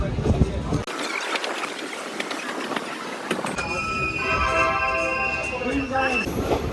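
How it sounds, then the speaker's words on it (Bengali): The Kolkata–Haldibari Superfast Express rumbles into Bolpur Shantiniketan station with clattering wheels, then high metallic squeals of braking as it slows, loud and close. "ট্রেনটা তিরিশ মিনিট দেরিতে বোলপুর শান্তিনিকেতন স্টেশন পৌঁছাচ্ছে"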